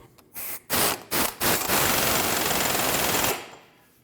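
A pneumatic impact wrench tightens a 36mm axle nut on a 2012-2016 Honda CR-V 2.4L, with a few short loud hammering bursts followed by a sustained rattling run that then stops.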